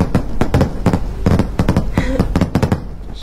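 Loud fireworks crackle and bang in quick irregular bursts, a steady barrage of sharp pops and booms close by, with no pause in the noise.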